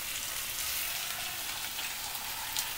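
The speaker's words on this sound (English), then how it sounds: "I'm going to add the potatoes now to the oil." Potatoes frying in hot oil in a pan make a dense, even sizzle, close and fairly loud for the whole stretch, with no voices.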